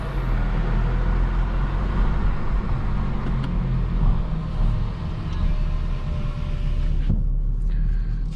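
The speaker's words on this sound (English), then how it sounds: "You can hear the diesel engine." A 2021 Mercedes E-Class AMG Line diesel, heard from the cabin while driving at night. A steady low engine rumble blends with road noise, with no talking.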